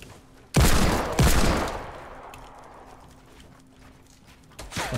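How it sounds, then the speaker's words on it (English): Loud gunfire cracks twice in quick succession in the battle royale game Fortnite, each blast booming up front and trailing into a long fading echo, followed by another shot near the end. "I'm getting shot at and I don't know where."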